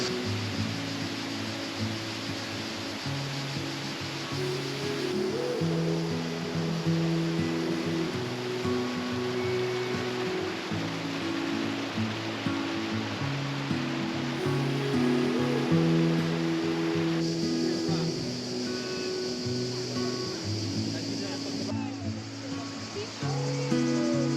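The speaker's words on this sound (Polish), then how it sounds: "przeszliśmy kawałek w górę wodospadu, żeby podziwiać kolejne jego oblicza." Rushing water of a waterfall in Krka National Park, Croatia, a steady broad roar that holds close and constant throughout, with faint indistinct voices beneath and a few shifting tonal layers.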